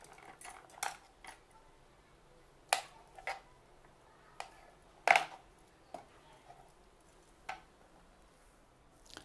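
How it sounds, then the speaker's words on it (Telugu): Kitchen knife cutting vegetables for a brinjal and potato curry, a string of sharp, separate taps on a cutting board at an uneven pace, close up and fairly quiet, with no talking. "ఈ విధంగా కట్ చేసి పక్కన పెట్టుకోవాలి అన్నీ"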